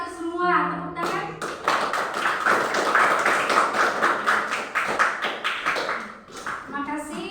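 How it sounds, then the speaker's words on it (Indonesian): A school class applauding in a classroom after a teacher's praise, children clapping in a lively, fairly loud burst for several seconds, with kids' voices mixed in and speech heard before and after the clapping. "Tepuk tangan."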